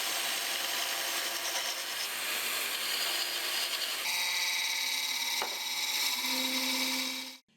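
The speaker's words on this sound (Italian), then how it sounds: "Ora tocca alla porzione superiore, dove è l'ala della sgorbia a modellare." A woodturning gouge shapes the upper part of a segmented Tasmanian pine vase on a lathe, giving a steady scraping, rasping hiss that runs continuously and close, with a brief knock near the end.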